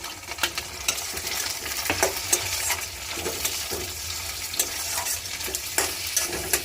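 Onion, tomato and green chili are stir-fried in a pan with a soft background sizzle, broken by repeated scraping stirs at an uneven pace, close and moderately loud.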